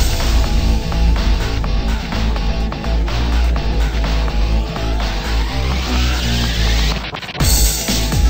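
Busy, upbeat title screen music from a Bloons video game plays loudly with steady beats and bright synth lines, breaking off abruptly near the end before resuming.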